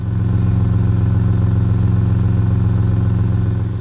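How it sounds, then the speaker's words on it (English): A car engine idling steadily, a low even rumble with a faint rhythmic pulse, close and continuous with no voices. "Listen to the engine."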